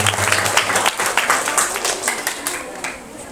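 Students and guests applaud at a sixth-grade primary school farewell ceremony, with lively clapping from a crowd that is strong at first and gradually thins and fades over a few seconds.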